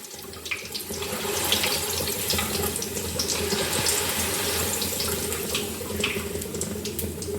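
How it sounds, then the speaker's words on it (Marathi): Slit green chillies fry in hot oil in a vada pav kitchen, giving a steady, close sizzling hiss dotted with small crackles and pops that holds throughout, with no speech. "मध्यभागी काप करून हिरव्या मिरच्या तळून घेत आहे तेलामध्ये"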